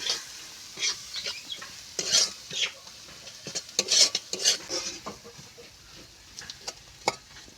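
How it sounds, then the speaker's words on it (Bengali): Turmeric and chili spice paste stir-fried in a pan for a fish curry: close scraping and stirring strokes of a utensil against the pan over a soft sizzle, with irregular clinks and no talking. "হলুদ, লঙ্কা, এবার মশলাটা ভালো করে এইভাবে কষিয়ে নেব।"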